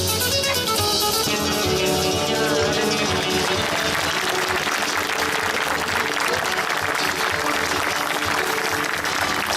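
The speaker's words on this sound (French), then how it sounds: "Donc là, il est très content, tout le monde applaudit" Crowd applauding at an equestrian show during the World Equestrian Games, loud sustained clapping under music and announcer voices, continuous for the whole stretch.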